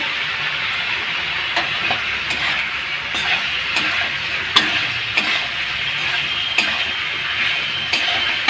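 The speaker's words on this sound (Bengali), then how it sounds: "ভাজা পটলগুলো দিয়ে নেড়ে নেব।" Steady sizzling of pointed gourd stir-frying with sesame in a pan, with occasional sharp clicks and scrapes as it is stirred, close and continuous with no talk.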